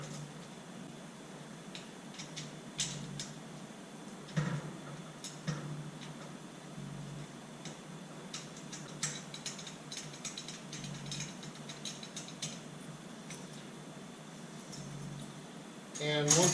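Washer and nut being tightened on a beach cart, a faint rapid ratcheting clicking in short runs with quiet sounds of handling throughout.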